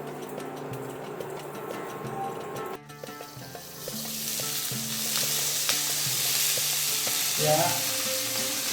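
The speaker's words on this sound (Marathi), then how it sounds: "आणि झाकण घालून हे व्यवस्थित आपण फ्राय करून घेऊ." Stuffed capsicum frying under a lid in a pan, a loud steady sizzle that swells after a sharp clatter midway, with a few light clinks and a brief word spoken.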